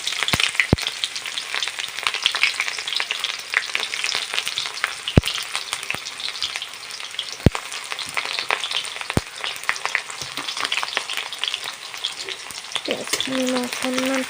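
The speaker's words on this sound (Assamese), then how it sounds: "কেৰাহী তেলো গৰম হৈ গ'ল। এতিয়া ইয়াত দি দিম মই পিঁয়াজখিনি।" Onions hit hot oil in a wok and fry with a steady, bright sizzle, broken by a few sharp clicks of a utensil, close up and without talk.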